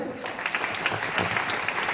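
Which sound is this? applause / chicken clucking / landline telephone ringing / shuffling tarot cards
applause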